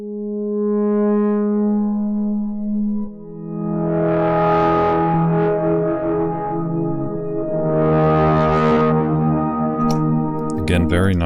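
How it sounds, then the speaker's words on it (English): The Valia synth by Luftrum & Sonic Underworld plays a loud sustained tone run through distortion, thick buzzing harmonics swelling and fading in waves, ending in a burst of crunchy noise. "Again, very nice distortion."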